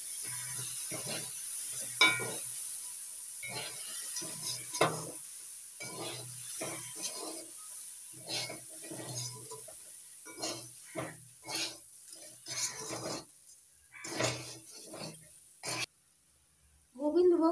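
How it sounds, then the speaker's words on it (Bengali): Washed Gobindobhog rice and cauliflower are stirred in a pan, making scraping and gentle sizzling strokes up close while someone talks over them almost throughout. "এবার দিয়ে দিচ্ছি ধুয়ে নেওয়া গোবিন্দভোগ চাল, ভালো করে নাড়াচাড়া করে নিচ্ছি"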